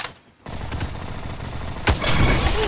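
A sniper rifle shot with an unusual sci-fi tone fires in the video game Bad Business, a loud sharp crack after a brief hush, followed by continuous busy in-game gunfire and action noise.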